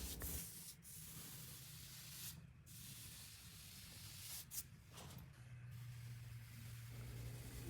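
A paint roller putting a quick second coat on a wall, giving a soft, continuous hissing swish with a few brief brighter strokes, close and quiet, no voices.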